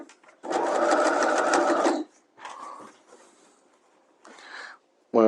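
A sewing machine stitching in the ditch along a garment waistband, a loud close burst of rapid stitching followed by shorter, softer runs with pauses between them.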